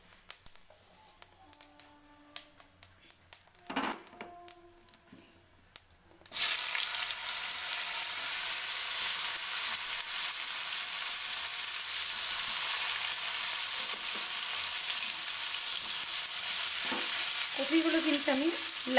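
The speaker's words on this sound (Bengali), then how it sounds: "কপিগুলো কিন্তু আমি লাল লাল করে ভাজবো" Cauliflower florets dropped into hot oil with whole cumin, bursting into a loud, steady sizzle after a few seconds of quieter clinks and stirring, continuing close and unbroken to the end.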